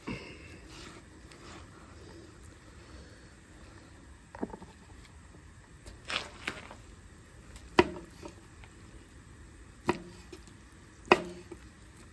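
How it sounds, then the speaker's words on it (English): A knife slices through a cooked cowboy steak, giving a handful of sharp, separate cutting taps against a board over quiet room tone, spaced a second or two apart. "let's slice her up"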